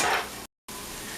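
Onion and garlic frying in a pan for shrimp pasta, a steady close sizzle broken by a brief silent cut before resuming.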